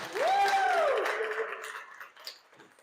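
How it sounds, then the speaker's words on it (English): An event audience in Atlanta claps and cheers, with a high rising whoop over the first second; the loud, dense clapping then fades steadily toward the end. "So clap for being present."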